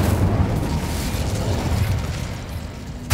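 The Incendio fire spell is cast in Hogwarts Legacy, giving a loud, sustained roaring whoosh of flame that fades slightly and ends with a brief sharp crack.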